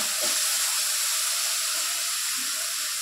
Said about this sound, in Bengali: এবার আমি এটা তেলের উপরে দিয়ে দেব। এটা আমি একটু হালকা ভেজে নেব।